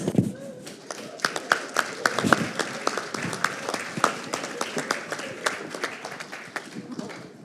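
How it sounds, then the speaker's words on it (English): Audience at the Caribbean Global Awards ceremony applauding steadily, a dense patter of many hands clapping throughout, fairly close and even in loudness. "Paulette, we applaud you."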